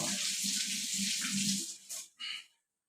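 Apple pieces being rinsed under running tap water, a close, full gush with rhythmic splashing and handling for about two seconds before the flow cuts off with a couple of short trailing splashes.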